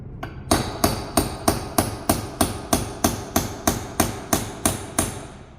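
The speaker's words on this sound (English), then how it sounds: "gonna whack it until, see how it starts to look funky?" A hammer whacks a domed rivet setter onto a rivet, about a dozen sharp metallic strikes in a steady, evenly spaced rhythm, close and loud with no talking.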